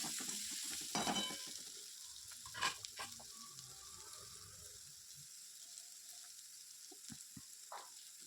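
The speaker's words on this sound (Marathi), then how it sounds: "कांदा हलका ट्रान्सपरंट होईपर्यंत तेलामध्ये परतून घ्यायचा आहे" Onion sautéing in oil over a medium flame, a soft steady sizzle with a few louder stirring scrapes and clinks early on, then settling into a quiet continuous fry.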